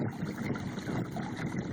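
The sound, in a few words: electric trolling motor propelling a kayak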